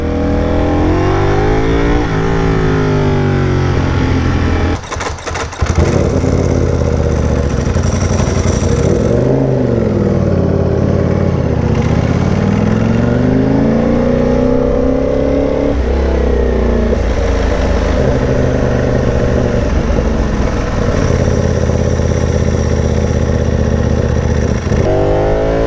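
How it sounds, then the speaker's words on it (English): A Ducati Panigale V4R motorcycle engine on an abandoned airstrip revs loudly and continuously, its pitch rising and falling repeatedly through sustained throttle sweeps with a brief dip partway through. "that's why I decided to take the V4"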